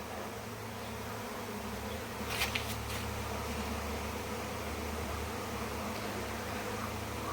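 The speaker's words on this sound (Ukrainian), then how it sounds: "Кожну весну тут пролітає рой бджіл." A faint, steady buzzing of a swarm of bees drifts past at a distance over a vegetable garden, a continuous insect drone under soft background noise.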